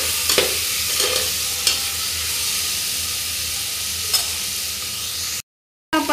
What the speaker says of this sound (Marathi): परतून घेऊया व्यवस्थित।